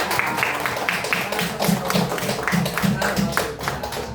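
A classroom group claps briefly for a student's answer, a loose scatter of hand claps with light chatter and voices mixed in.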